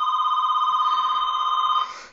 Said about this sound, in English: my phone just beeped. That I just got a message.